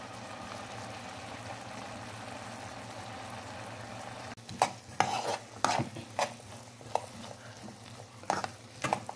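Cacao candy cooking in honey in a pan, stirred with a utensil: a steady low simmering hiss, then from midway a series of distinct scraping and clacking stir strokes close by, with no talk.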